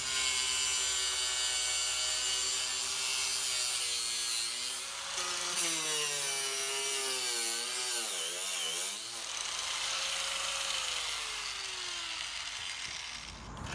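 A power cutting tool slices through two stacked magnetic chalkboard panels at once, giving a steady, loud, high whine that dips and wavers partway through the cut before it winds down. No one speaks.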